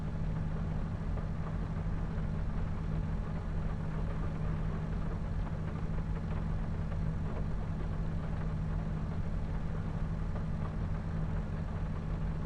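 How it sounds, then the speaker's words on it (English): A tractor engine in Farming Simulator 25 drones at a steady idle-like rumble with a constant low hum, unbroken and even for the whole stretch, with no voices. "I can just about hear the tractor."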